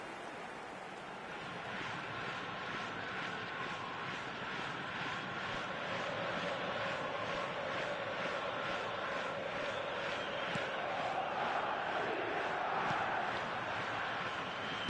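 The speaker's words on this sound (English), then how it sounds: "Certainly gave this crowd something to really cheer about." A stadium crowd in the eFootball 2026 football video game roars in a sustained, dense wash of cheering that builds gently over the span.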